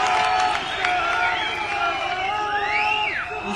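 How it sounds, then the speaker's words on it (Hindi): A large outdoor political rally crowd cheers and whistles, with sliding shrill whistles rising and falling over a dense, loud roar of voices and clapping. "आपकी तालियां और सीटियां बजी"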